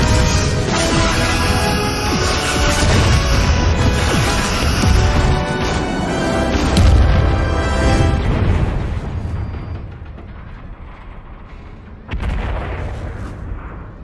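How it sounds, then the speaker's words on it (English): Starship battle combat from Star Trek: Picard, the Enterprise-D firing torpedoes and phasers at a Borg cube: loud, continuous booming blasts and energy-weapon fire with a dense roar that fades, then one more burst near the end. "Torpedoes away, locking phasers and returning fire."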